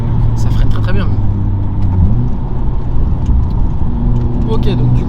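A Honda Civic FK8 drives steadily with a continuous engine drone and a shifting tonal whine dipping briefly partway, as a voice talks over it.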